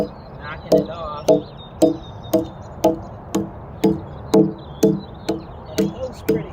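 A bark adze knocks bark off a log, a dozen sharp, evenly spaced chopping strikes about half a second apart, close and loud over faint background.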